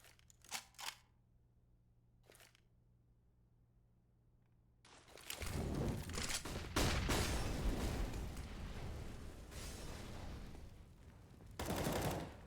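Gunfire in the tactical shooter CS:GO during a competitive esports match: quiet opening with a few sharp shots, then a loud sustained burst of rapid firing and chaotic action from about five seconds on, with another surge near the end.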